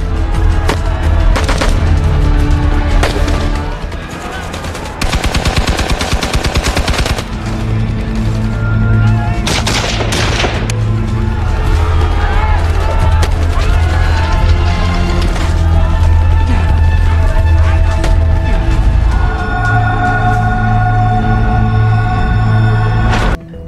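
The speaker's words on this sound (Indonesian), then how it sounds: "Tank-tank ini langsung menembaki musuh." Heavy automatic gunfire and cannon blasts from tanks firing on enemy soldiers in a war film battle, with loud sustained bursts, crashes and booms filling the whole stretch.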